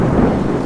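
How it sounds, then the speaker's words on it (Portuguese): Thunder from a huge lightning strike during heavy rain, a loud, dense low rumble that fills the whole short stretch with steady rain noise beneath it. "Nossa, teve um raio gigantesco agora."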